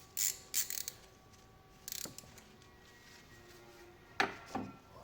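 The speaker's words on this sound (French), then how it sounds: "je vais mettre de ma rallonge avec ma douille de 8, donc c'est du 8 et en dévissage" A ratchet with an extension and an 8 mm socket loosens a nut while glow plugs are changed on a Peugeot Partner. Short bursts of close pawl clicking come in several separate spurts with quiet gaps between them.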